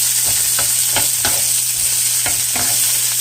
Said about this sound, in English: we're going to saute those until they're nice and glistening here.